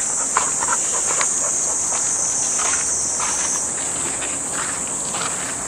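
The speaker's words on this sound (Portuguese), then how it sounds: "Escuta o barulho da cigarra." A cicada drones steadily near a river, its high, shrill buzz continuous and loud over the whole stretch, with faint rustles and footsteps scattered underneath and no talking.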